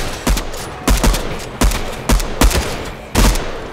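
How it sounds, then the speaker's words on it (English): Bursts of rapid gunfire from computer-controlled enemies in the video game Fortnite, five loud volleys spaced roughly every second or so, sharp and close with brief gaps between. "Those NPCs were shooting."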